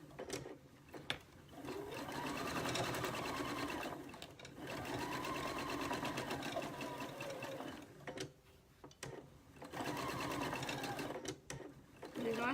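A sewing machine stitches a patchwork pin cushion with a short back stitch, running in steady close bursts broken by brief pauses, fairly quiet and without talk.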